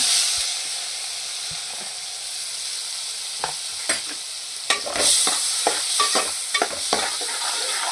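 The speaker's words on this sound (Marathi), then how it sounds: "कांदा चांगला गुलाबी रंगावर परतून घ्यायचा" Chopped onion and cumin sauté in oil and butter in a pan for pav bhaji, with a constant hissing sizzle and a growing run of sharp spoon scrapes and taps near the end.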